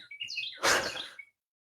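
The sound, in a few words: bird chirping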